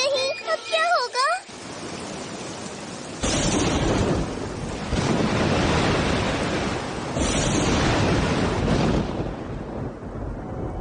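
Ocean surf in an animated Doraemon episode: a broad, steady rush of waves and wind swelling in and out for several seconds, loud and continuous after a short burst of voices at the start.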